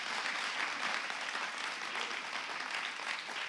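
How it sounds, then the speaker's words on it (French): A crowd applauds during a group photo at a marketing awards ceremony, dense even clapping from many people, sustained and fairly distant, with no voices over it. "C'est fou comme les applaudissements sur une photo"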